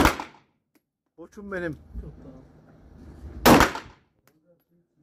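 Two sharp pistol shots during handgun shooting practice at a range, loud and close, a few seconds apart, with someone speaking between them.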